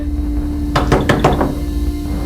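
Knocking on a wooden door: a quick run of four or five sharp, close raps in steady rhythm, standing out over a quiet room hum with no speech.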